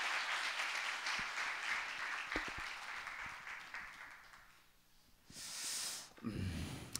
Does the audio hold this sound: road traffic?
no